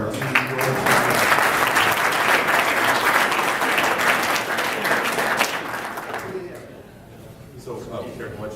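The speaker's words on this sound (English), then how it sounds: "We need a big round of applause for our team." Audience applause fills a Rotary club meeting room, loud and sustained for several seconds before thinning out toward the end as a few claps linger.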